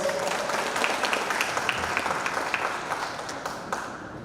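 An audience claps steadily throughout at a lecture for the Director of Energy Management, dense applause at a constant level that fades slightly toward the end.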